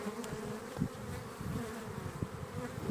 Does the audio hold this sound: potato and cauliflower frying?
no